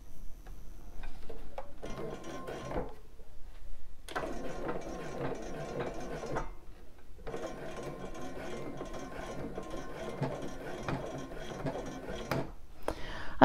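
A sewing machine stitches a bra in three bursts of rapid, even mechanical clatter, separated by short pauses, close and moderately loud.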